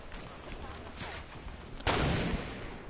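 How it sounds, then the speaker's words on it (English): In Fortnite, a player keeps shooting, producing a few scattered gunshots and then one loud, close sharp blast that rings out before fading. "He's sitting there still shooting."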